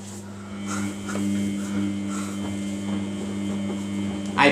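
A Samsung WF80F5E0W4W washing machine runs steadily with a close, loud electrical hum and buzzing drone, faint rattles and ticks over it, and a short louder knock at the end.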